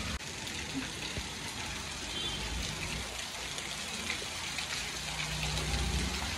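Steady, dense rush of heavy rain pouring down continuously, a broad hiss filling the background with faint splashing throughout.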